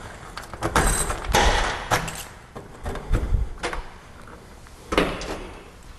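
A 1966 Chevy Nova hardtop coupe's trunk being unlocked and opened, with several clunks and knocks of the latch and lid, close and fairly loud, separated by short pauses.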